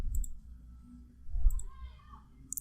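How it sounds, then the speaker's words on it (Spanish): Sharp computer mouse clicks sound while an account confirmation link is opened, a couple of crisp, close clicks near the start and again just after the middle, with a final click at the end, over quiet room hum. "sencillamente le vamos a dar clic acá donde dice confirma tu cuenta"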